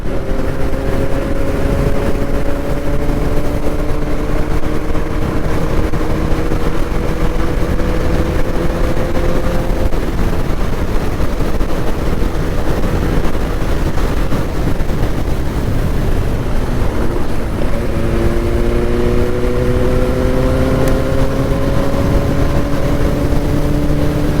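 A motorcycle holds a steady high speed, probably around 130 km/h, with a loud, constant engine drone and heavy wind rush. The pitch dips briefly and then climbs again with no talk over it.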